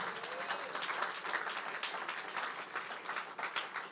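Church congregation applauding loudly during a sermon, a continuous crowd clapping with cheers mixed in, steady but fairly distant.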